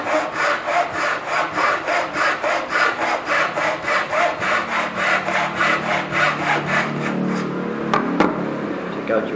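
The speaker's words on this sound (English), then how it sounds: "Get the saw cut. Don't push the saw." A hand saw cuts through a wooden brick held in a mitre box, with about twenty even back-and-forth strokes in a steady rasping rhythm, close and clear with no talking.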